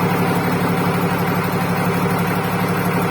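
A boat's engine runs at night at sea in the Tuamotus, a steady low rumbling drone with constant vibration, continuous and fairly loud with no pauses.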